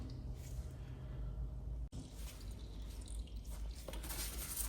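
Engine oil trickles and drips from a Kawasaki ZZR600 motorcycle into a pan, a faint, continuous liquid patter with one brief dropout partway through.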